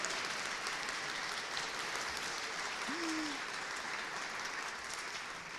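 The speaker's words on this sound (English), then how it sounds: "they deserve applause" Steady, dense applause from an awards ceremony audience at the University of New England Biddeford campus, a continuous rain-like wash of clapping with a brief low voice sound in the middle.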